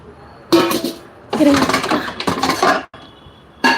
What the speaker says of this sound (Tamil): அதே மாதிரி இந்த பாத்திரம் சேர்த்து கீழே கீழே வைக்கலாமா